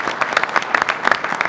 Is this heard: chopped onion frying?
no